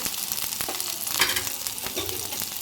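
Tomatoes and green chillies fry in a pan with a steady, close sizzle and crackle, broken by a few sharp stirring scrapes; no one speaks.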